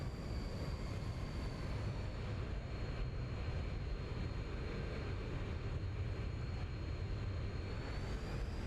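An airplane is put down in a very bad crosswind in a flight simulator: a steady, loud engine and wind roar with a constant high whine runs unbroken and close, with no talking.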